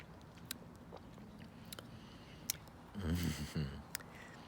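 Fresh raspberry bitten and chewed outdoors in a garden, a short soft squishy burst of chewing near the mic over quiet outdoor background with a few faint clicks.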